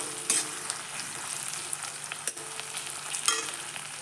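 Slit green chillies frying and being stirred in a pan for ghugni, a steady close sizzle broken by a few sharp spatula scrapes and clinks, with no one talking.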